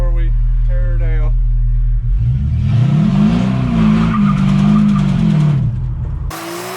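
A truck doing a tire burnout, its engine roaring loud and close while revving up and down, with a rough rising and falling squeal, before the sound cuts off abruptly.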